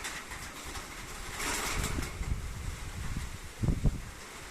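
Steady outdoor wind rushing and buffeting the microphone, with low rumbling gusts swelling and fading throughout.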